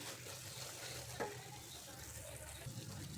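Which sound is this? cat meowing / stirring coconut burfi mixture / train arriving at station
stirring coconut burfi mixture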